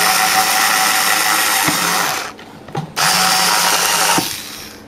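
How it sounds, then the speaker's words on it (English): An electric drill whines loudly while boring a hole into the neck of a plastic bottle for a DIY air-powered filter, running steadily, briefly cutting out near the middle, then resuming before tapering off. "Next, drill a hole in at the neck of the bottle,"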